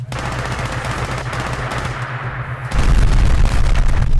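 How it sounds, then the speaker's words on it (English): Rapid automatic gunfire from a weapon in the VR game ModBox, loud bursts of shots in quick succession that grow heavier and more booming partway through, close and continuous. "Quit shooting that weapon"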